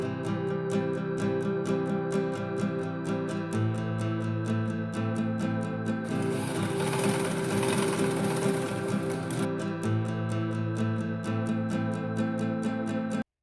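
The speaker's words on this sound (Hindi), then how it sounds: "प्लेटें बिठाने के लिए मास्क के दोनों तरफ सीधी सिलाई लगा दें।" A sewing machine runs steadily for the whole stretch, its needle ticking in a fast, even rhythm as it sews straight seams to hold the pleats on a cloth face mask. The sound is close and clear, with no talking.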